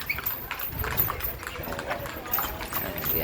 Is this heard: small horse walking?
yes